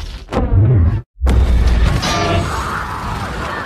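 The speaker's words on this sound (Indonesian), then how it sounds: "satu tembakan dari Medusa sangatlah dahsyat dan membuat tembok San Guo rusak parah" A loud, crashing blast from a huge mobile city's weapon smashes a city wall, cuts to a brief silence, then a second heavy explosion rumbles on with debris-like crackling and clatter.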